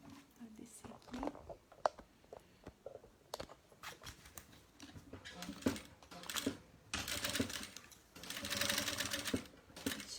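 Sewing machine stitching the lining of a toiletry bag, running in bursts of rapid mechanical stitching that grow longer and louder toward the end, with someone talking between and over the runs.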